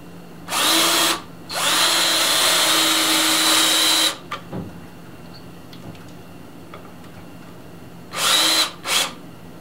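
A power drill drives screws into wood while a work table is built, running in two long bursts followed by two shorter bursts after a pause, loud and close with faint clicks between.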